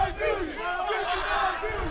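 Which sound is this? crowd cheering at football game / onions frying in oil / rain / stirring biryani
crowd cheering at football game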